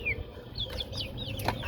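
Free-range native chickens living in a wooded, forest-like area cluck nearby: a series of short, chirpy, rising calls over a low steady outdoor background.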